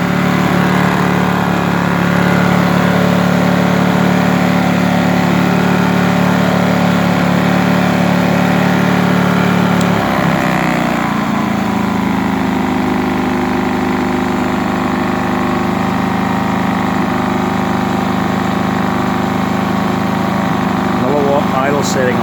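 A Briggs & Stratton 2200 inverter generator runs at idle, a steady close engine drone that drops to a lower, smoother hum partway through as a load comes on, continuing without pause.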